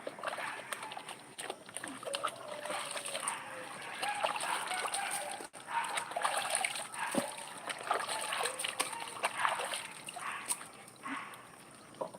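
Water splashes and trickles steadily while a dog is bathed, with soft dribbling and splattering close by and faint talk in the background.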